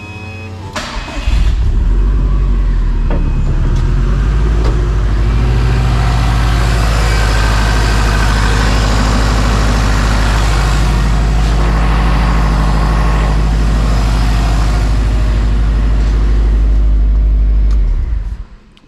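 A car with a brand new engine cranks and catches, then runs at a loud, steady idle close by for about sixteen seconds before shutting off, with no voices over it.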